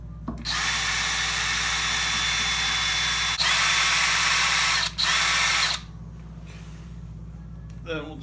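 A power drill whines loudly and steadily in a pottery glazing workspace, running for about five seconds with a brief dip and surge before cutting off, followed by quieter handling clatter.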